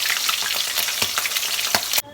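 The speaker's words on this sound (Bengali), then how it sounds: "মাছটা কিন্তু এভাবে ভাজা করার সময় তোমরা ঢাকা দিয়ে নেবে" Pieces of chital fish fry in hot oil in a pan, giving a loud, steady sizzle with sharp crackles that stops abruptly near the end, with no voices.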